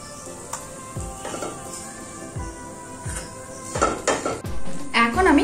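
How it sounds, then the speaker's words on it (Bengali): A lightly fried egg is lifted out of a metal kadai, with sharp metallic clinks and scrapes of the spatula striking the pan at irregular intervals and growing busier toward the end, alone without talk. "এবার আমি ডিম ভাজাটাকে তুলে নিচ্ছি"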